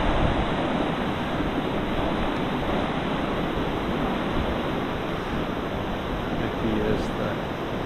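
A river in Kings Canyon National Park rushes past in a loud, steady roar of churning water, continuous and unbroken, close by, with no one speaking.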